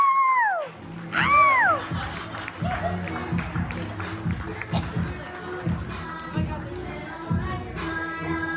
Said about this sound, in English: Give a big round of applause to my friend,